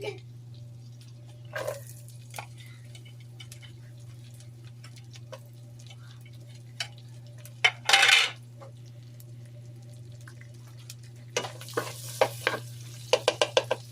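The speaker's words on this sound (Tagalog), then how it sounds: "Yan, ilagay ko na ang aking garlic." Sliced garlic sautéing in a pan for garlic butter shrimp: a soft steady sizzle under a low hum, broken by utensil clinks and scrapes, with a louder clatter near the middle and a burst of clinks toward the end.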